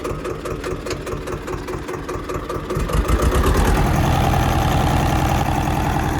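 A farm tractor engine runs nearby at night in a field, a loud, continuous mechanical drone with a rapid pulsing rhythm that grows heavier and louder about halfway through.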